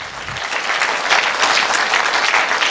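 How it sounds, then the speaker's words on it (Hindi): A crowd at a celebration for achievers in Bikaner applauds their leader, with dense, steady clapping that stays loud and continuous throughout, with no voices standing out. "हमारे जबरदस्त लीडर संकेश वायल सर के लिए एक बार जबरदस्त तालियां"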